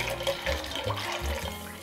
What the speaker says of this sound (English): Pour some water over the ice,